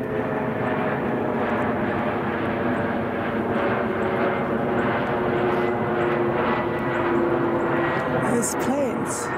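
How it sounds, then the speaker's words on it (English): An airliner flies overhead toward Philadelphia International Airport, a loud, continuous engine roar that swells and holds steadily through the clip, with brief higher sounds near the end. "there's been one plane after another heading towards Philadelphia International Airport."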